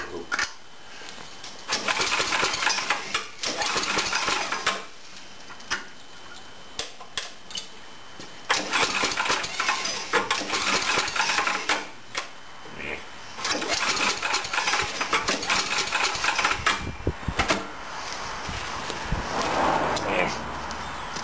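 A Tecumseh 8.5 HP engine on an MTD snow thrower idles with the throttle set all the way down, a steady close rumble that swells and dips in long stretches while someone talks over it at times.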